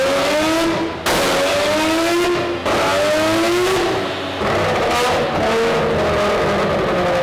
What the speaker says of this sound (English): So this is the last pull for the night. Same thing, but full throttle, so that way we know the limits before we go out there.